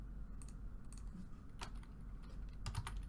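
Someone types on a computer keyboard in short bursts of clicking keystrokes with pauses between them, close over a steady low background hum.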